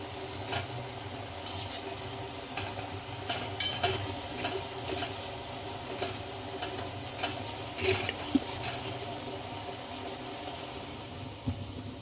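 Gulab jamun dough balls fry in oil, giving a soft, steady sizzle with faint crackles and occasional light stirring clicks, fairly quiet and continuous with no talking.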